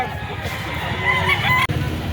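Golden Boy chickens at a livestock auction cluck and crow in a noisy pen close by, with a background of low crowd murmur.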